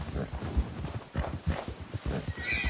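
Galloping horse hooves in the Western roleplay game RedM, a quick, steady run of rhythmic thuds with a faint whinny, heard alone without talk.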